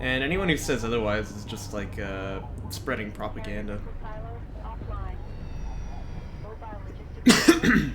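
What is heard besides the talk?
a person coughing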